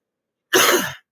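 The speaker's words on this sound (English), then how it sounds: "I'm still coughing stuff up." A single burst of coughing or throat clearing, close and fairly loud, lasting about half a second with no talking around it.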